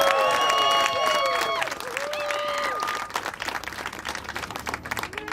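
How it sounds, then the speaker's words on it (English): A crowd at a city council candidate's endorsement event applauds campaigners. The clapping is mixed with cheering, whistles and a voice. It thins into scattered, uneven claps toward the end. "So a round of applause for these great campaigners,"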